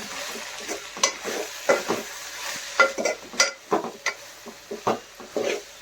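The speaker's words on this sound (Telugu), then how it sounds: "ఒకసారి కలుపుకుందాం." Cabbage keema fry stirred in a pan, with repeated close scraping strokes of a spatula over a soft, constant sizzle, coming in an uneven rhythm.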